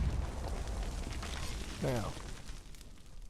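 Explosives burst on a vault in Conan Exiles, leaving a rumbling, crackling fire and debris noise that runs under someone talking, with a brief surge near the middle.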